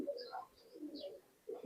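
Teddy pigeons coo in short, low repeated phrases, a few soft calls close by with quiet gaps between, alongside faint higher chirps.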